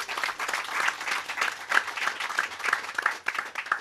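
Audience applause at the handover ceremony for Mexican greenhouses, honoring the government of Mexico. Steady clapping from a moderate crowd runs throughout with no one speaking.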